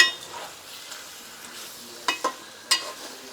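Raw fish pieces for a fish curry are turned in a pan, giving a faint sizzle with a few sharp scrapes and clinks of a utensil against the pan near the end.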